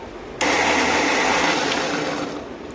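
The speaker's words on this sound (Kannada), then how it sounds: "ಈಗ ಇದನ್ನ ಗ್ರೈಂಡ್ ಮಾಡ್ಕೋಬೇಕು" A mixer grinder whirs loudly at full speed, grinding cooked greens for a sambar, starting abruptly and running as a steady close motor roar that eases slightly toward the end.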